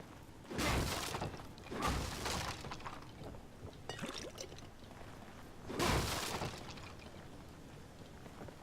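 Objects get smashed in the survival horror game The Evil Within: three crashing, shattering bursts with scattered debris between them, moderately loud with no talking.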